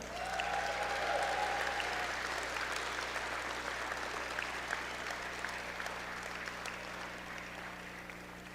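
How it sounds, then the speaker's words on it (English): Audience applause at the 38th annual WAHF induction ceremony, sustained clapping from a large indoor crowd holding steady for several seconds before tapering slightly, with no talk over it. "How about a big round of applause for our past inductees?"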